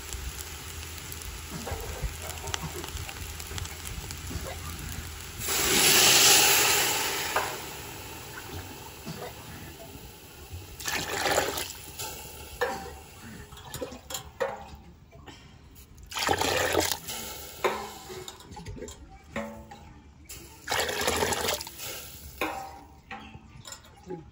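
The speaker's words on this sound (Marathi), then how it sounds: "आता आपण या तांब्याने 5 तांबे पाणी घालू याच्यामध्ये" Water gushes from a small jug into a cooking pot of sautéed ingredients in a short burst, followed by further pours and splashes, with rustling and handling noises between them.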